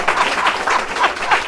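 Rhythmic group clapping in roughly regular beats, about five strong pulses close together, with no talk over it.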